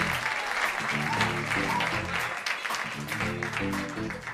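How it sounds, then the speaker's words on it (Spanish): A festival crowd claps steadily in a dense burst of applause that fills the clip, with faint voices mixed in underneath. "Denle un fuerte aplauso."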